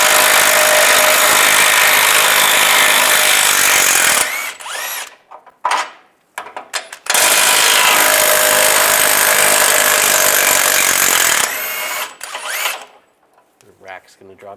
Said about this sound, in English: Using a 24mm socket, take these two bolts out.